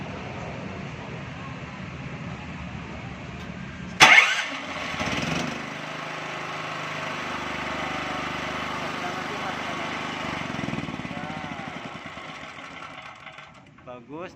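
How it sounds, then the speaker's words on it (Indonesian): A Loncin 8800D petrol generator engine cranks on its starter key with a sharp burst, then settles into a steady close idle for several seconds before fading, with people talking over it. "coba nyalain dang starter dang, pakai kunci starter"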